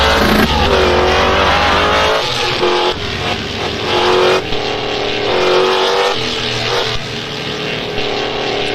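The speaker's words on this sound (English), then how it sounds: "Alright, we're gonna start accelerating." Race cars in a Daytona GT racing video game accelerate at the start, a loud, continuous engine roar with shifting revs and layered motors filling the whole stretch, no talk over it.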